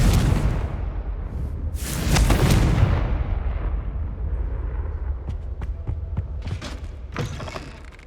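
A Confringo fire spell from the video game Hogwarts Legacy bursts into a heavy, booming explosion midway, trailed by rumbling debris and scattered crackles as the blast settles.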